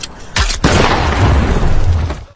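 A loud film explosion bursts out as a sharp boom, then a sustained roaring rumble with debris fills the rest of the moment before cutting off abruptly.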